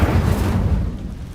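A fire spell cast in the Hogwarts Legacy game gives a loud, low whooshing burst that sits strong through the first second and then fades into a softer rumbling tail.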